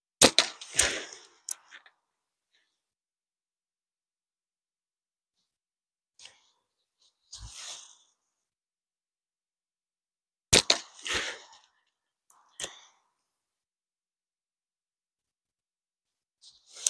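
Slingshot shots fired during a test of ammo speed with different pouch weights: about seven sharp, loud cracks and snaps arrive in spaced pairs and clusters, separated by quiet stretches, with no talking.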